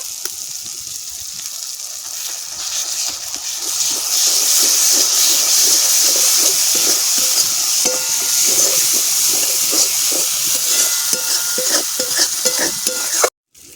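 Ground garam masala and ginger paste fry in a hot pan with a steady, loud sizzle and hiss, stirred with soft scraping, swelling after a few seconds and cutting off abruptly near the end.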